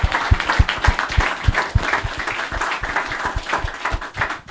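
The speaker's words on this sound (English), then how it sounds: "one final round of applause here for Yoni" Audience applause after a talk at a blockchain meetup, a modest crowd clapping with some distinct near hand claps standing out, steady and moderately loud.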